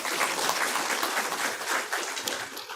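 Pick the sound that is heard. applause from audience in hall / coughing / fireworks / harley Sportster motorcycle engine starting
applause from audience in hall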